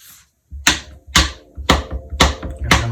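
Knife cutting through a stick of cold salted butter into strips for sweet potato biscuits, giving five sharp, close, evenly spaced cuts that each strike the board, with no talk.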